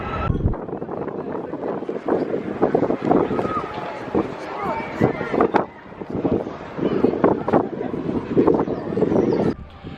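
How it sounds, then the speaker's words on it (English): Gusty wind buffets the microphone outdoors at a theme park on a windy day, rising and falling in rough bursts over ten seconds, with people talking underneath. "It's got windy."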